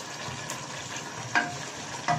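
Minced mutton keema fries in a pan with a steady close sizzle, and a spoon or spatula scrapes and stirs it twice in quick strokes.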